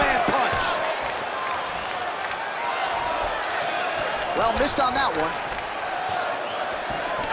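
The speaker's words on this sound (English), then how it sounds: "the crowd continues to react with every passing land" An arena crowd roars and murmurs steadily through a UFC 5 video game bout between Bruce Lee and Michael Bisping, with a few thuds and a swell of cheering midway, while a commentator talks over it.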